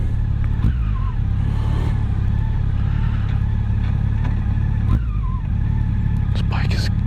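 A 2017 Yamaha FJR or FZ-10 motorcycle engine humming steadily while riding on a demo day ride, with a loud continuous low drone and wind rush.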